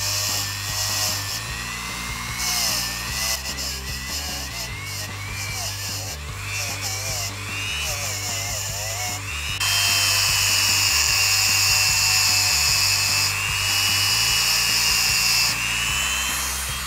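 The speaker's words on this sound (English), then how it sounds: "For the finishing I'm going to use the Dremel tool with this copper filament" Dremel rotary tool fitted with a copper filament brush buffing a gold ring, a high whining spin that rises and falls in pitch as pressure changes, close and continuous over a low steady hum.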